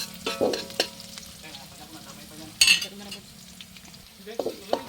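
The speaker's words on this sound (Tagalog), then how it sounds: "lagay na natin yung ating minarinate na beef baka." Marinated beef sizzles in a pan with onion and garlic, a steady frying hiss punctuated by sharp scrapes and clinks of stirring utensils, close and fairly loud.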